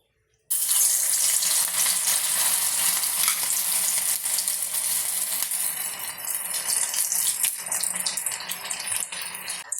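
Vermicelli-coated egg kebab dropped into hot oil sizzles and crackles loudly and steadily, a dense continuous fry that starts abruptly and holds for several seconds, with a brief softer stir or shift partway through.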